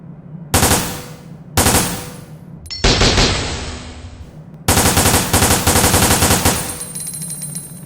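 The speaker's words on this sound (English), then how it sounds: "you could fire this just like an automatic pistol. So, yep, obviously, as you guys saw, it is burst fire" Semi-automatic handgun firing in bursts in the video game Resident Evil: Dead Aim, several loud rapid clusters of close gunshots separated by short pauses, ending in one long stretch of rapid shots.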